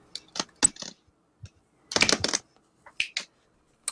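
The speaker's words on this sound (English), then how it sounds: "Who's typing?" Keys clatter on a computer keyboard in a quiet podcast room, with short irregular bursts of close, crisp keystrokes separated by pauses and no talking.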